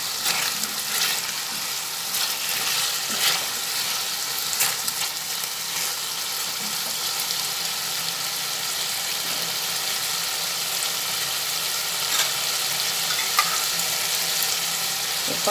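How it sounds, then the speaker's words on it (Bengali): Spice paste and potatoes fry together for a papad kalia curry, making a constant loud sizzle broken by scattered scraping stir strokes, close and without any talking. "মশলাটা আর আলু একসঙ্গে ভেজে নিচ্ছি।"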